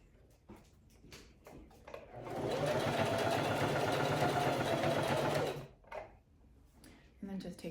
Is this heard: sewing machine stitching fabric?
yes